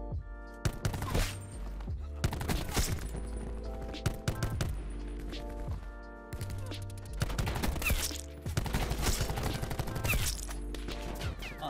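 Assault rifle fire in a first-person shooter match, with dense bursts and rapid volleys repeating through the whole stretch over a steady game soundtrack, loud and close.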